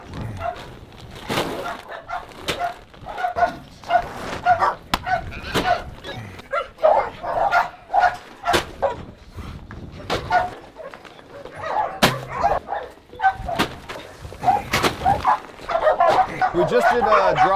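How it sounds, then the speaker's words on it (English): Puppies at a dog rescue bark and yip in quick, repeated bursts, near and fairly loud, along with whimpers and occasional sharp knocks. Someone talks at times between the yips. "As you can hear, they got a couple puppies chirping."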